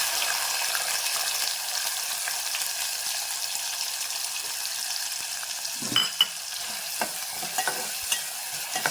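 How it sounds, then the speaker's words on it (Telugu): Onions frying in hot oil over a medium flame for a mutton curry, a steady soft sizzle with a few sharper crackles and stirring clinks toward the end, close and alone. "కొద్దిగా మనకి బ్రౌనిష్గా వచ్చేంత వరకు మనం ఫ్రై చేస్తాం."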